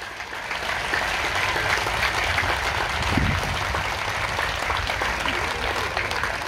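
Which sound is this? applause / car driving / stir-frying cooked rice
applause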